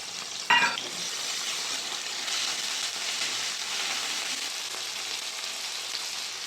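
Tomato, green chili and ginger paste fry in hot mustard oil with bay leaf and whole cumin, a loud, even, continuous sizzle after a sharp clatter as the ingredients go in.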